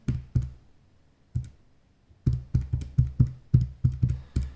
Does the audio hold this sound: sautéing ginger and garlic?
no